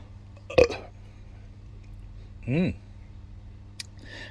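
Two distinct burps after drinking an American-style IPA beer, the first short and sharp, the second longer and more drawn out, both close and fairly loud against a quiet background.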